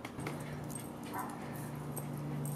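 A dog whimpers and whines softly outdoors, with short high cries over steady background noise and faint voices nearby.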